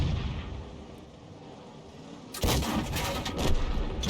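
A 105 leFH18B2 artillery gun in a tank video game fires a shell, with a sudden loud blast breaking a low rumbling background, followed by echoing booms that trail off.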